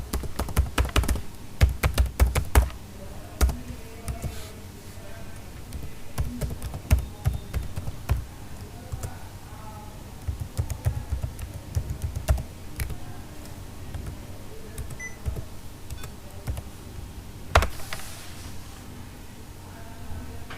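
Someone types an Apple ID and password on a computer keyboard: irregular clusters of close, crisp key clacks with short pauses between bursts and no talking.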